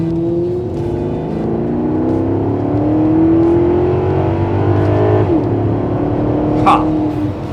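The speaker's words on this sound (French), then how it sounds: "avoir un cabriolet pour profiter des vocalises du V8 haut dans les tours" Maserati GranTurismo Sport with a 4.7 V8 revving hard, the exhaust note climbing steadily through the revs in a loud, continuous close-up roar, then dropping briefly on a shift before pulling again.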